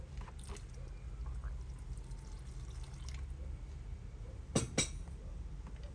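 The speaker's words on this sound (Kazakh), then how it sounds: "Енді қиярдың рассолын құямыз." Cucumber pickle brine, about 400 to 450 grams, is poured into a pot of solyanka soup. A soft, steady liquid pour plays quietly, with two brief clinks near the end.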